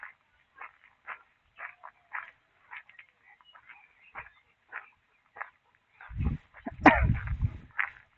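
A dog barks in short yips repeated at a steady rhythm, fairly close, outdoors during a walk, with a louder rumbling burst of handling noise near the end.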